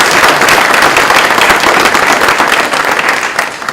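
Loud, dense audience applause at a U.S. Secretary of Education visit to Pellissippi State, sustained clapping from a crowd that tapers slightly near the end, with no talk.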